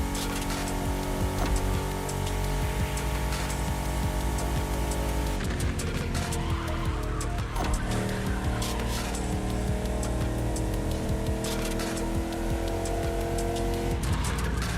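Car drifting in The Crew Motorfest video game, a loud continuous engine roar with long tire squeals and skidding that shift midway, sustained throughout under game music.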